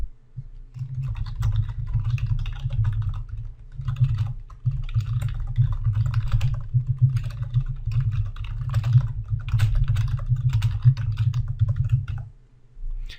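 Steady, fast typing on a computer keyboard, close and clear, a dense run of key clicks over a low background hum with short pauses near the start and end.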